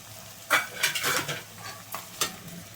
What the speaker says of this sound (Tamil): இதை போட்டு ஒரு 2 நிமிஷம் வதக்கி விட்டுக்குவோம்